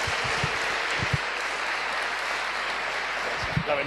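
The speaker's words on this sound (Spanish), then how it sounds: "Fuerte aplauso al Santo Padre" Audience applause for the Holy Father at the close of a conference, a broad steady wash of clapping heard from inside the hall, with a few louder single claps near the start and end.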